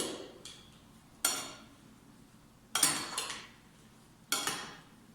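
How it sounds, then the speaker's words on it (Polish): A spoon clinks against a bowl while fruit salad with canned peaches gets stirred, three separate sharp metallic scrapes and taps, close and fairly quiet, with soft room noise between them. "Mieszam, żeby nam się dobrze składniki wymieszały."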